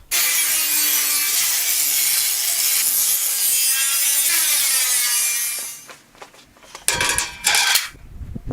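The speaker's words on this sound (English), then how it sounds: "I'm just going to take the angle grinder to all of these score marks to soften them up" An angle grinder roughly works over score marks on aluminum tread plate in a long, loud, steady abrasive whine, then the sound drops away into a few short, loud scraping bursts.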